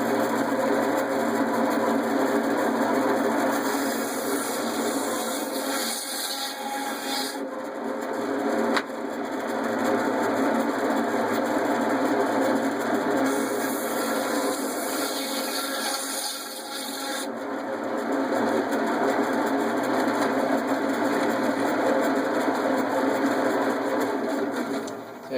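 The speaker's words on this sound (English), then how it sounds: "Okay, got the saw rolling." A powered meat saw cuts frozen lamb chops with a steady loud whine and grinding buzz, its pitch and load shifting as the blade passes through the meat, continuous and close.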